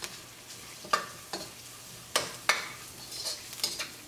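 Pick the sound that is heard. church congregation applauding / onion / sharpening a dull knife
onion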